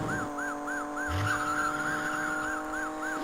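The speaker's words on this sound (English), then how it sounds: "I'm not sure these car sounds are sampled from real cars." Synthesized car engine hum from the Amiga racing game Chase HQ, a steady buzzy drone with a repeating warbling siren-like tone and a brief skid sweep, continuous and close.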